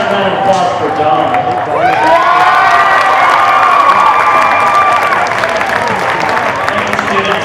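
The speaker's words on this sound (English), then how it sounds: "How about a round of applause for Don?" A crowd cheers and claps loudly at a high school student election assembly in a large room, with shouts and a steady wash of applause throughout.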